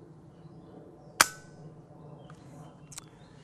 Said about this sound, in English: The gun is now ready to fire.